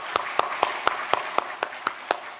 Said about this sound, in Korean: 박수를 한 번 더 하면 좋겠습니다.